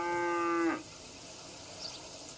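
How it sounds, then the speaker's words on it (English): A single cow in a FiveM zombie survival game lets out a loud, drawn-out moo that cuts off abruptly, leaving quiet ambience behind. "well, there goes our cow."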